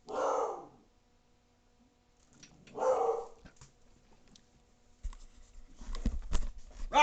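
Dog barking indoors, two loud separate bark bursts a few seconds apart, then scuffling, patter and a cluster of quicker yaps and whimpers near the end.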